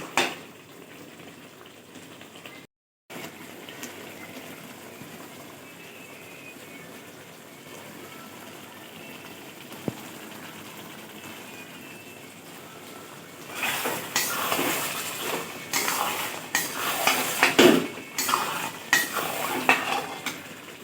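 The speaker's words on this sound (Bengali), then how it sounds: "এই কড়াইয়ে খাসি মাংস করছি, এটা টোটালটাই কড়াইয়ে হবে" Mutton stirred and cooked in a kadai, a metal spoon scraping and clattering against the pan in loud bursts over a quiet kitchen background with faint sizzling.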